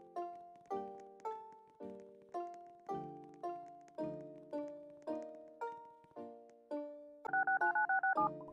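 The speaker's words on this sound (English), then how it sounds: "find the emergency phone, so we can call for help" An emergency phone aboard an airplane being dialed: a steady run of separate push-button tones, each a short decaying beep, about one per second, ending in a quick burst of rapid tones.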